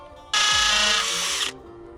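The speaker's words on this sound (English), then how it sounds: "That's a Tapcon or a concrete screw. Pre-drilled with a concrete bit." A drill drives a Tapcon concrete screw into a pre-drilled hole in concrete in one loud, close, high-pitched burst of about a second, then cuts off abruptly.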